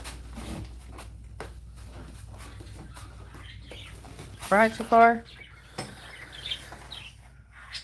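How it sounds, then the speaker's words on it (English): Several sharp bird chirps burst out in a quick cluster near the middle, close and fairly loud, with people talking quietly before and after. "y'all would like to hear my birds sing."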